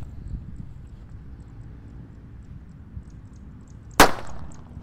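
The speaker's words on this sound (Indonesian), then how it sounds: "kalau ini Corsair Golden EY guys. Ini lebih menggelegar ini suaranya." A Corsair Golden EY firecracker goes off in one sharp, loud bang after several seconds of quiet outdoor ambience, its crack trailing into a short rumbling decay.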